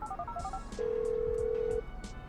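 Phone menu sounds from the GTA 5 video game: a few quick soft ascending beeps, then a sustained steady electronic tone for about a second, with faint clicks around it.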